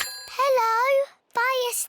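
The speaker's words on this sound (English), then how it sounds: "It's the fire phone." Cartoon fire station telephone in a Peppa Pig episode gives two warbling electronic rings, a longer one and then a shorter one, separated by a brief silence.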